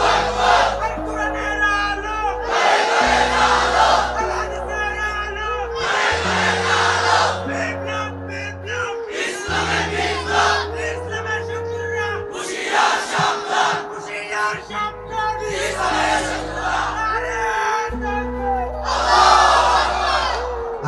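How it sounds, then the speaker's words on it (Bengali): A crowd at a religious sermon shouting takbir in unison, repeated loud bursts of massed voices separated by short pauses, with music-like tones running underneath. "যে কোনো একজন দাঁড়িয়ে তাকবীর দেন"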